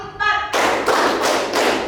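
Students in a classroom ice-breaking clap game clap in unison, a few sharp group claps in an even rhythm following a brief spoken call.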